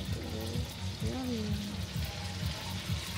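Food fries in a pan with a steady low sizzle at a homestyle Christmas meal preparation, moderately quiet, while people talk over it.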